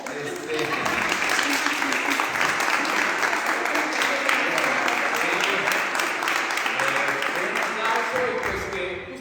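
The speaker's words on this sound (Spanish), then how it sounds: "un aplauso, por favor." Audience in a university theatre forum applauds to welcome the Compañía Nacional de Teatro, a long, even round of many hands clapping, steady for about eight seconds before thinning out, with voices faintly mixed in.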